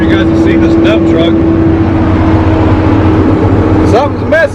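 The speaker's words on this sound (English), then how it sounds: "I guess it's the first time you guys have seen this dump truck." A dump truck engine idles and rumbles steadily at a farm during an Ohio fall harvest, a loud continuous low drone with someone talking over it throughout.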